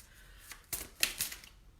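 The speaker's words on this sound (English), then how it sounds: "Don't have to shuffle much." Tarot cards being shuffled briefly during a reading, a few quick soft riffling bursts close by with quiet gaps between them, no talking.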